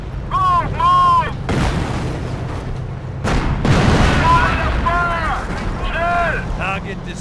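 High-explosive artillery rounds slam into a structure in the Company of Heroes battlefield, with heavy booming impacts around the one- and four-second marks under steady rumbling combat noise while soldiers shout orders throughout.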